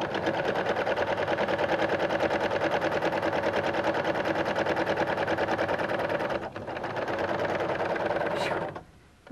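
A Husqvarna Viking Huskylock serger stitches a sweater knit seam, its rapid even whir running loud and steady, a brief hitch partway through, then slowing and cutting off at the end.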